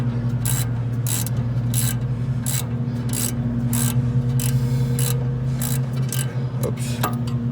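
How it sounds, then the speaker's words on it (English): A small ratchet with a 16 mm socket tightens a bolt on the front brakes of a 2001 BMW 330Ci E46 convertible, giving a steady series of close, crisp clicking bursts over a constant low hum. "what I use is I use the small ratchet right here with a 16 millimeter"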